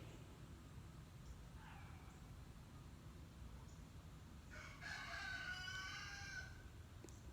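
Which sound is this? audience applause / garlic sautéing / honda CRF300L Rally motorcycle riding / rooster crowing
rooster crowing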